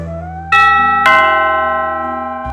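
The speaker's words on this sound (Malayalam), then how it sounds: "കോളിംഗ് ബെൽ അടിക്കുന്ന ശബ്ദം കേട്ട്" A doorbell rings loudly, its struck chime tones sustaining and slowly decaying over a steady low hum, used as a sound effect in a Malayalam audio story.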